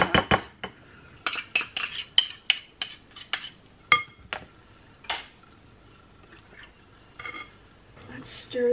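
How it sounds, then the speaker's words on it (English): A utensil scrapes and clinks against a container while sourdough discard is cleared out, giving a series of sharp taps and scrapes at an irregular rhythm, close and fairly quiet. "Try to scrape every last little bit out of here."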